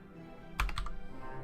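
A short burst of quick keystrokes clatters on a computer keyboard during a Dwarf Fortress game session, a few rapid close taps in a cluster over a faint steady background hum, with no talking.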